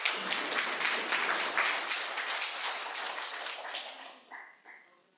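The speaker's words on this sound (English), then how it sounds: "one big applause for our interpreters" Audience at a roundtable on mine action in Kyiv applauding the interpreters, dense clapping from many hands that thins out and fades toward the end.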